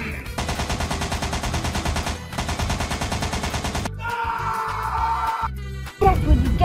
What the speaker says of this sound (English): we're gonna start shooting